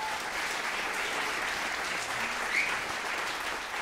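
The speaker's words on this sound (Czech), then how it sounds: "Lukáš Vajda kontrabas, prosím o potlesk." Concert audience applauds a double bass player, a sustained, even roar of clapping heard from a moderate distance, fairly soft overall and unbroken throughout.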